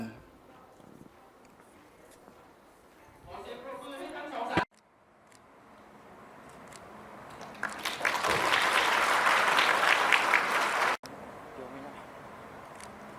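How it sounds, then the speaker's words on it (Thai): Applause from attendees closing an annual general meeting of a juvenile and family court associate judges' association, starting faint under a voice, then swelling into a broad burst of clapping before cutting off abruptly, with quieter sound after. "ขอเสียงปรบมืออีกครั้งหนึ่งครับ"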